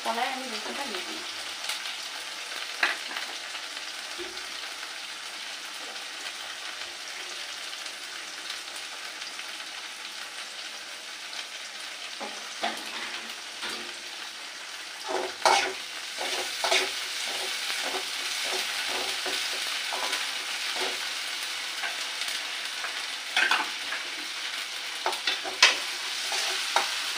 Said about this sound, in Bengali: এবারে একটু ভালো করে ভাজি করে নেব